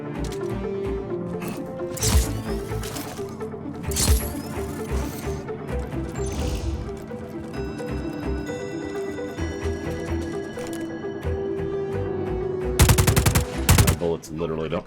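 Gunfire in Just Cause 4, bursts of machine-gun fire and scattered shots over game music and ticking effects, loudest near the end.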